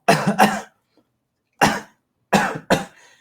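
Five sharp coughs, close and loud: a quick pair, a pause, one alone, then another quick pair.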